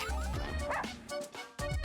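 Cartoonish dog yips and barks from the video game Russian Subway Dogs, a few quick bursts layered over busy game music and effects.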